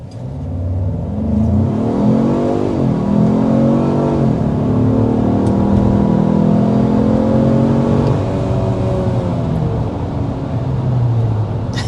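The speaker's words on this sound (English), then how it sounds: "we need to start with a hard acceleration because this is the Lobo after all" A 2025 Ford Maverick Lobo pickup truck accelerates hard past 60 mph, engine revving through rising and dropping gear pitches, heard from inside over steady road noise.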